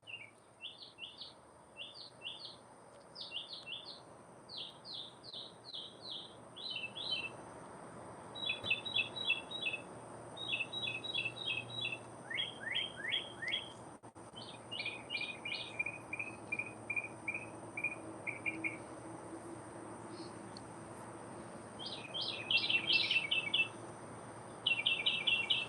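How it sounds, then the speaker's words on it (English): Birds sing in a garden with repeated bursts of quick, high chirping trills from fairly close by, broken by short pauses, over a faint steady background hum. "the birds are definitely very pretty."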